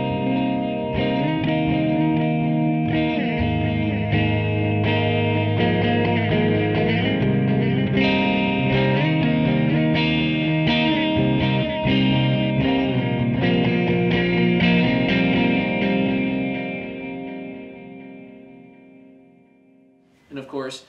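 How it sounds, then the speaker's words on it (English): A golden ratio ping-pong echo effect from the Expanse software processes a sustained, chorded instrumental tone. The repeating echoes smear into a dense, even wash that runs for about seventeen seconds, then fades, ending with a brief click. "you're just going to be rewarded with a lovely golden ratio echo sound"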